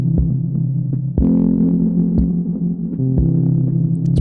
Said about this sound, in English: push is the first tier of the distortion